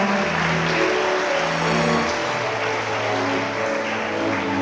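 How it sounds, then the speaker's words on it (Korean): Wedding guests in a hall applaud as the candles are lit during the ceremony, a steady, dense wash of clapping lasting throughout with a low tonal hum beneath it. "다시 한번 축복의 박수 부탁드리겠습니다"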